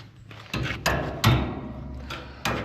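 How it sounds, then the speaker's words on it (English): Hammer blows ring out during the building of a big DIY hydraulic aircraft hangar door, a handful of sharp knocks at irregular intervals. "Yeah, I do need a hammer,"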